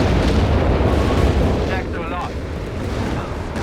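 An artillery barrage pounds enemy lines in a Company of Heroes 3 match, a dense, loud rumble of overlapping blasts that fills the whole stretch, with a commentator talking over it.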